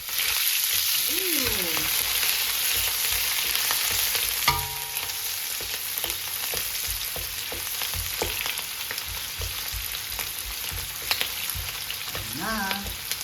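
Onion dropped into smoking-hot oil in a wok for pinakbet, giving a loud, steady sizzle with sharp crackles and a few scraping stirs throughout.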